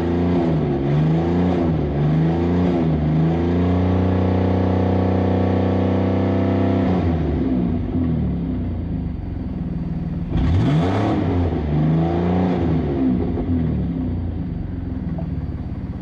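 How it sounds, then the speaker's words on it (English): 2011 Ford Edge engine running with its exhaust pipe broken off the manifold, a loud raw exhaust roar that idles, revs up and holds, drops back, then revs again. "Sounds like the pipe broke off the manifold in the accident."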